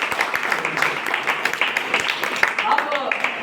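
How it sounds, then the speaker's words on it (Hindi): Audience applause at an RCM achievers event, scattered hand claps from a hall crowd rising and falling, with a voice speaking over it. "जोरदार तालियां दीजिए"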